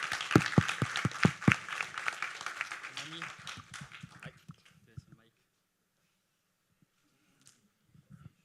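Brief applause at a youth council plenary session held in a venue: a few seconds of sharp, separate hand claps mixed with talk, fading out after about four seconds into near silence with a faint stray sound.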